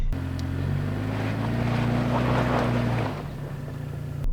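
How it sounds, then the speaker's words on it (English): Toyota Land Cruiser 250 on an off-road trail with three tires spinning, a steady close engine drone under wind rumble with a low tonal hum that drops away near the end. "You can see I've got 3 tires spinning"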